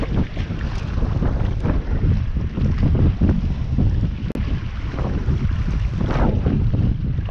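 Strong wind roars steadily across a shallow lake shore, buffeting the microphone with gusty rumble and a constant broadband rush that never lets up.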